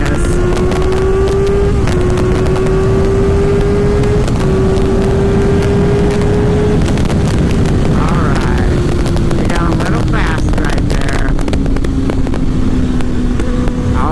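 Kawasaki Ninja ZX-6R (2024) with a pops-and-bangs tune, steady engine drone with a gliding pitch that rises and falls through the gears, accompanied by crackling bursts and wind rush while riding.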